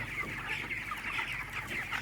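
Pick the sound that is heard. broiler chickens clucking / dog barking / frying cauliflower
broiler chickens clucking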